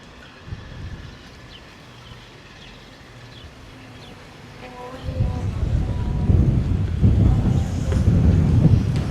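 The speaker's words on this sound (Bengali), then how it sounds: "প্রচুর পরিমাণে বাতাস।" Wind gusts buffet the microphone, growing stronger and louder in the second half with a low, roaring rush, at a spot overlooking aircraft taking off and landing in Cyprus.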